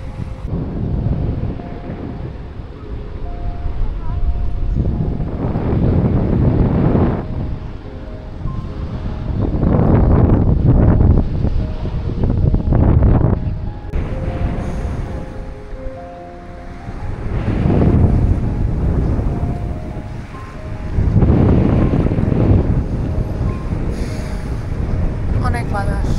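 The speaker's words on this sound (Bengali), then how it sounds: "অনেক বাতাস" Strong wind sweeps across a water villa at a Maldives island resort, a loud, roaring gust that swells and fades in repeated waves, with a surf-like wash underneath.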